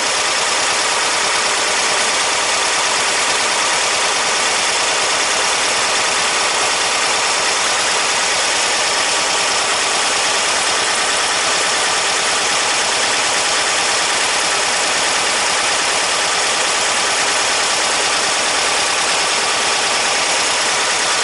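A car engine with dual EMPI 40HPMX carburetors idles steadily while the carbs are being synced, a constant close mechanical hum and whir with no voices over it.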